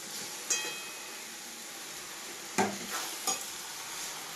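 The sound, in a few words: stirring mutton in a frying pan with tongs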